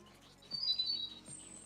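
Background bird chirps in the Dead by Daylight video game come as faint, high, thin tweets, a couple of brief calls in a quiet ambience with soft low thumps beneath.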